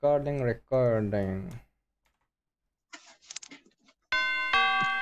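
A doorbell-style ding-dong alert chimes on a PUBG Mobile livestream, bright and loud near the end. Before it, a voice imitates the chime, followed by a short burst of soft clicking.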